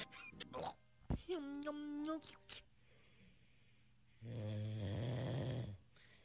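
A person mimics a dog's snoring with a few choppy nasal snorts followed by one long, drawn-out rasping snore, close and fairly loud, with brief talk and rustling mixed in.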